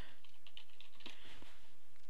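Typing on a computer keyboard to search for updates on an Ubuntu 12.04 desktop, a quick run of light, close key clicks with no talking.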